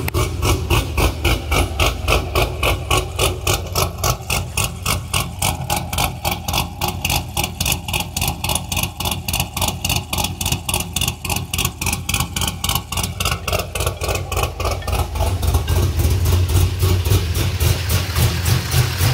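A cammed 6.0L LS2 V8 in a Pontiac GTO idling, a loud, close, choppy lope with rapid regular pulses and a deep low rumble throughout.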